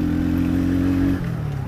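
A Phoenix Classic 50cc motorcycle engine hums with a steady idling drone that shifts down in pitch near the end, loud and close.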